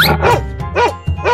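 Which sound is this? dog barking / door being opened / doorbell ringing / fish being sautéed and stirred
dog barking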